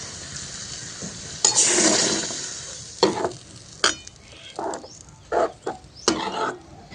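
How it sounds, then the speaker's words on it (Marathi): A hot spice tempering of red and green chillies and turmeric is poured over spinach kadhi, giving loud sizzling bursts followed by shorter scraping stirs and hisses in uneven spurts. "छान तडका तयार झालेला आहे वरतून घालून घ्यायचं आहे"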